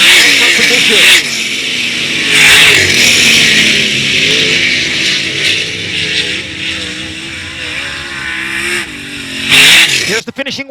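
Sprint race cars roar down the back straightaway of a dirt track during a heat race, engines loud and sustained with rising and falling passes, under continuous announcer commentary.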